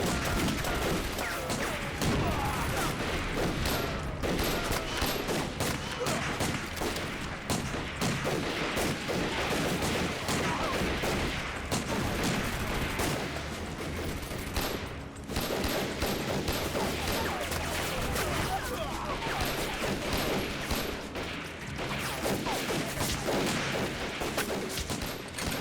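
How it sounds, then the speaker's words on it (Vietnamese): A volley of gunfire in an anti-Japanese resistance war action film rattles continuously, with dense, loud rifle and machine-gun bursts blending into a sustained roar throughout. "cho tôi khai hỏa."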